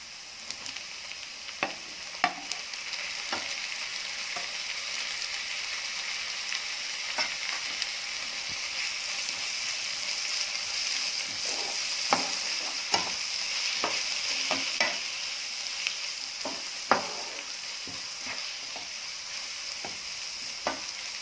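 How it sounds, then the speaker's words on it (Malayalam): Onions sautéed with tomatoes and salt in a pan for Kerala-style chicken pollichathu give a long, steady sizzle, broken by regular scrapes and taps of a stirring spoon throughout, with no one talking. "ഇനി ഇതിലേക്ക് തക്കാളിയും ആവശ്യത്തിന് ഉപ്പും ചേർത്ത് നന്നായിട്ടൊന്ന് വഴറ്റിയെടുക്കാം"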